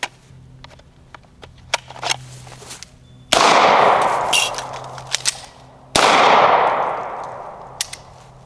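A Beretta 92X pistol fires two loud, sharp shots about three seconds apart, each with a long reverberant decay. Quieter clicks and handling noises come before the first shot.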